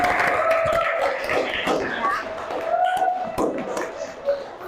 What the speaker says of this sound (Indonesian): Kita tepuk tangan untuk kita semua.